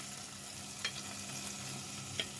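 Onion sizzling quietly in melted butter in a pan, a soft continuous frying hiss with a couple of faint utensil clicks, no talking.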